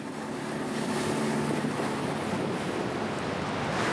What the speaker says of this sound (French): on entend vraiment les vagues.